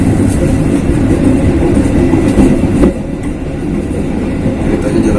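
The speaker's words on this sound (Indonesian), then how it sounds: "Keretanya jalan terus." A train rolls steadily past on the rails, a loud continuous rumble with rhythmic clickety-clack of wheels on the track, close by and without voices.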